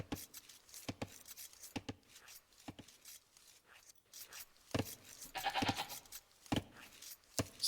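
Sheep bleat repeatedly in an Age of Empires 2 match on the Arabia map, sharp game-sound calls spaced irregularly across the whole stretch, fairly close and clear, with occasional clicks and no talking.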